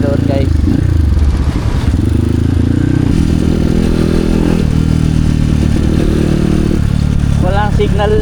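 A freshly repaired motorcycle without side mirrors is ridden on a test ride, its engine droning loud and close with rattles, thumps and scraping over rough ground, while someone talks over it.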